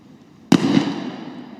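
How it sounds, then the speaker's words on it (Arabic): A single sharp .308-calibre rifle shot cracks out close by at a 100-metre range, its boom ringing off and fading over about a second. "هذه طلقة الثانية ممتازة"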